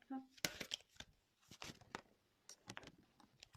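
Tarot cards being shuffled by hand, a run of quick papery riffles and taps close up, with soft talk woven through.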